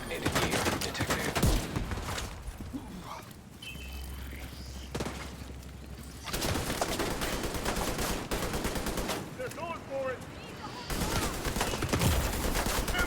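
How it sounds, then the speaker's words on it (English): Rapid turret gunfire in The Division 2 on PC, loud dense bursts of shots with brief pauses between volleys, mixed with in-game sounds. "Oh hell, that is a turret. Whoever turret is hitting me, I'm fried."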